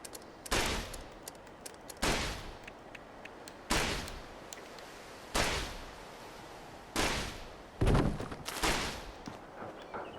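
Repeated gunfire bursts in Fallout 76 as something attacks a player's base, about six loud sharp volleys spaced roughly every one to two seconds, each decaying quickly, with no talking.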